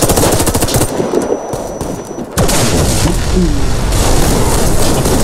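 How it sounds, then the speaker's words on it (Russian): Dense, rapid sniper gunfire crackles nonstop in the video game Contract Wars, loud and close, with a brief dip partway before the shooting resumes at full intensity. "Снайпер палит на планте."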